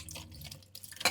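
Water runs briefly from a tap into a sink in a home kitchen, a faint trickling splash with dripping, ending in a louder splash, no voices.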